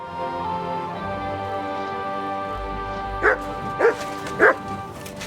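A dog in the medieval video game Kingdom Come Deliverance 2 gives three short, evenly spaced barks over a steady hum of background music and ambience.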